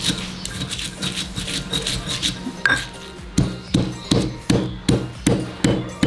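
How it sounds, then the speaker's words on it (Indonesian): Chili, bird's eye chilies and spices pounded and ground in a stone ulekan mortar, a steady run of close, solid thuds that grows sharper and more regular in the second half. "Kita ulek sampai halus."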